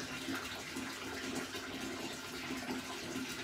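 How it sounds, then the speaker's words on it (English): Hot water flushed through a gin-making vessel and draining out, a steady, faint, continuous rush and trickle of liquid running the whole time without a break, with no voices. "I'm gonna put some hot water in there and then flush her out again."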